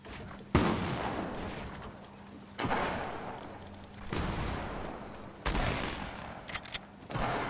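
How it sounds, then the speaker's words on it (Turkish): Gunfire from a firefight in Fortnite comes as several sharp, loud bursts, each followed by a rough decaying tail, spaced a couple of seconds apart, with crackling shots near the end. "Oo orada çatışma var. Ses duyanlar duymuştur zaten."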